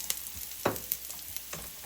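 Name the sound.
onions caramelizing and sizzling in a pan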